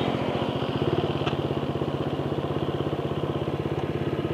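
A Vperman150 V3 motorcycle runs flat out near its top speed on stock tires, giving a loud, steady, rapidly pulsing engine drone with no talk.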